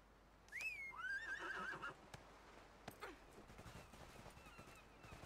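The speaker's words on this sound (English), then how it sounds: "I'm gonna summon a horse." A summoned horse in the video game ArcheAge gives a loud descending whinny, followed by a few sharp clip-clop hoof knocks and low game ambience.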